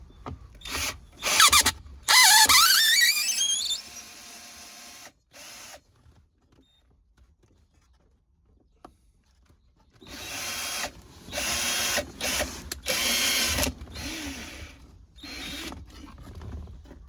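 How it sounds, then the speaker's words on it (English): A power drill drives screws into wood for a car armrest console platform, giving several short whirring bursts early on, a pause, then a longer run of repeated driving bursts close up. "So let's screw that in."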